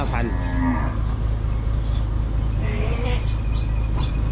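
Cattle mooing repeatedly at a Thai cattle and buffalo market in Wang Prachop, Tak, loud and close with a steady low rumble of vehicles and crowd noise underneath.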